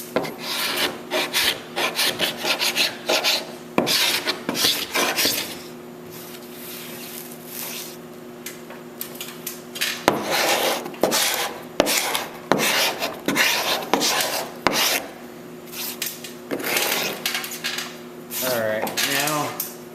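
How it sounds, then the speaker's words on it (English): Repeated rough rasping strokes of 80-grit sandpaper on wood, in bursts with brief pauses, close and fairly loud, with no talking. "if you start sanding now with 80 grit"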